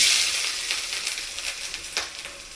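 Mackerel fish frying in hot oil for a traditional Kerala curry, a close, bright hiss and crackle that starts strong and settles into steady sizzling with a few sharper pops.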